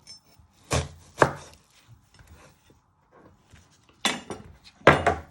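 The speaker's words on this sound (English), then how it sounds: "Then you're going to chop the other ends." Knife chopping through the ends of an onion on a board, with a few sharp cutting knocks spaced apart: two close together early, then a cluster of quick chops near the end.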